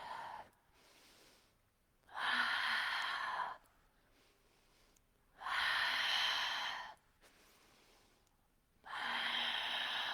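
Slow, steady yoga breathing in a flow class, three long audible breaths about two seconds each, airy and close, separated by quiet pauses with no talking.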